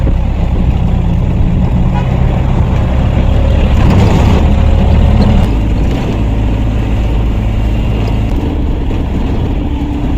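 Loud, continuous road rumble from inside a hitchhiked vehicle on the road between Bangalore and Coorg, a steady engine and tyre drone with no pauses.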